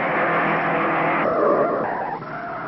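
Race cars at the 1953 Indianapolis 500 roar past at speed, a loud, dense engine blare that swells and shifts as the cars go by, with no talk.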